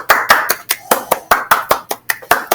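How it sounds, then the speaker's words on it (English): A class claps hands together in a steady rhythm, about a dozen sharp, close claps landing in time over a few seconds with no talk. "Round of applause."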